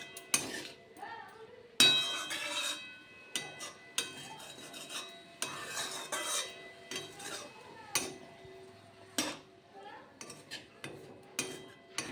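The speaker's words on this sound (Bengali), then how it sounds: "পুরো শাকটা আমি কড়াইতে দিয়ে দিয়েছি এবার একটু এপি টপি নেবো শাকটাকে" Metal utensils clatter and scrape against a metal wok as red amaranth greens are tossed, in repeated bursts, with irregular clangs and rasping stirs at close range.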